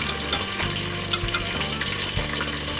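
Food frying in a pan on a gas stove turned up high gives a loud, steady, close sizzle, with a few sharper crackles and spits popping out of the hiss.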